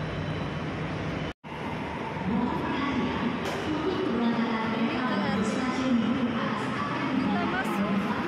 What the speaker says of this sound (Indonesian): Ini kita ada di dalam kereta